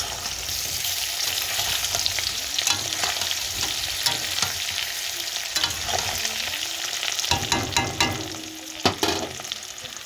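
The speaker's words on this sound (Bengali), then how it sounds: "এখানে আলু ভাজা করছি" Potatoes fry in a hot pan with a steady, loud sizzle, broken by occasional scraping stirs and spatula clatters toward the end; no one speaks.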